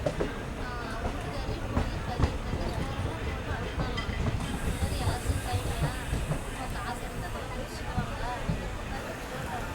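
Riding aboard a passenger train near Karuppur station on the line toward Salem Junction, a steady loud rumble of wheels and carriage rattle fills the space, with rhythmic clicks and a faint high whine joining partway through; speech-like voices blend in the background.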